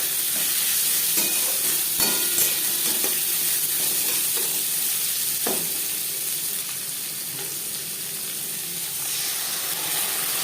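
Onion and garlic hit hot oil seasoned with bay leaf, dried red chilli and five-spice, giving a loud, close, steady sizzle with a few sharp crackles and utensil clicks, no talking.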